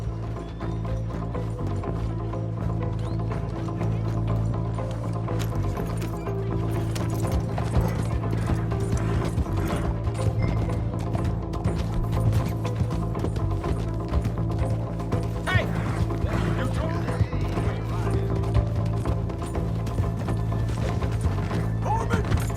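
Galloping horse hooves in the Western video game Red Dead Redemption 2, a steady clip-clop rhythm running throughout over constant game ambience and music, with no clear talk.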